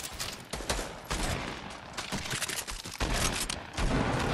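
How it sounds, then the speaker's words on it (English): Rapid gunfire from a Fortnite trios match crackles in dense bursts over several seconds, the shots overlapping into a loud fusillade with scattered booms and no talk. "Someone's shooting him."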